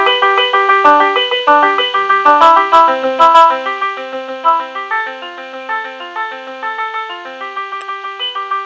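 AI-generated music composition played back: bright, bell-like synthesized tones in a quick, bouncy melody with chords, loud and clear, with a few faint clicks and no voices.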